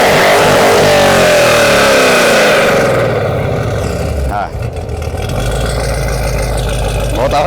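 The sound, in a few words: Chevrolet Camaro ZL1 engine revving on throttle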